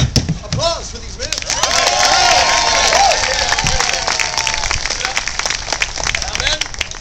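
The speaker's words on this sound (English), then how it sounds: "Applause for these men." Lively applause and cheering from a crowd for men performing on stage at a comedy show, loud and sustained with scattered sharp claps, voices and shouts mixed in throughout.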